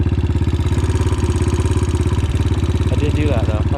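A motorcycle engine idles up close with a loud, steady, rapid thumping pulse. Faint background sounds come in near the end.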